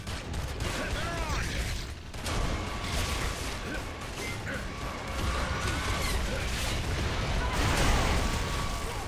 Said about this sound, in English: Let's use the mortar.